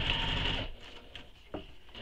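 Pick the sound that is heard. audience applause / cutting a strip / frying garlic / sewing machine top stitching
sewing machine top stitching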